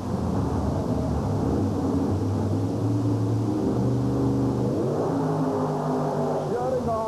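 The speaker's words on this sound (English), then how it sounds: "Here's Todd Berrien's gorgeous new carbureted nitrous injected GCJ funny car called Expect No Mercy." A carbureted, nitrous-injected GCJ funny car at a 1991 USHRA event in Oklahoma City roars loudly during a drag run, its engine note climbing and rising in pitch near the end, with an announcer talking over it.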